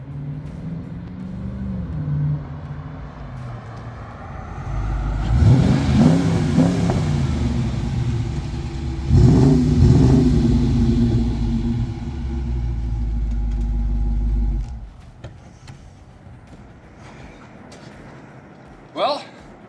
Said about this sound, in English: one of my favorite cars, a Charger with a beautiful Hemi inside